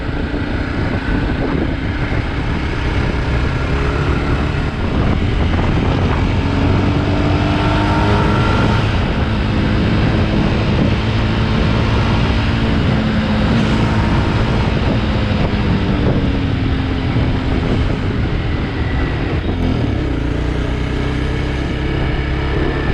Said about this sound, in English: For a 350cc single cylinder bike, the acceleration is pretty good.